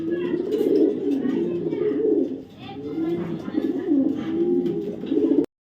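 Pigeons coo continuously in a low, rolling murmur, close and fairly loud, with a brief pause midway before the cooing resumes.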